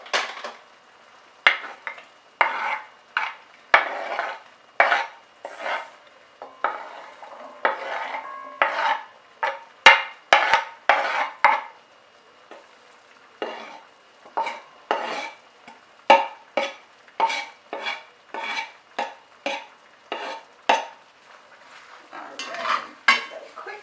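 A spoon scrapes and clacks against a pot while brown stew chicken with potato is stirred, giving a steady run of short, close, rhythmic scraping strokes with brief pauses between them.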